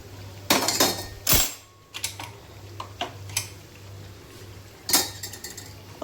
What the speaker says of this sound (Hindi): थोड़ी सी चाय बची है तो मैं इसे छान लेती हूँ